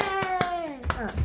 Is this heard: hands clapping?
yes